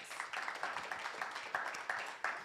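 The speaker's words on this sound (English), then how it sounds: "Can you please give her a round of applause?" A symposium audience applauds after a speaker introduces a South African press council director, steady clapping from a fair-sized crowd heard at moderate distance with a few sharper individual claps.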